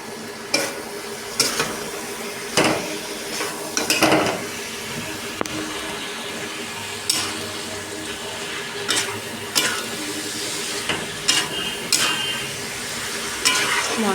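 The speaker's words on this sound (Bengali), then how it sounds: "মশলা দিয়ে ভালো করে কষাবো।" Spices stir-fried with boiled peas for ghugni, a steady sizzle punctuated by repeated scraping strokes of a spoon against the pan, close and fairly loud throughout.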